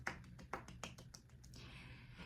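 Quick run of light hand claps, about six sharp separate hits in an even rhythm, heard faintly and up close with no talking, followed by a soft hiss.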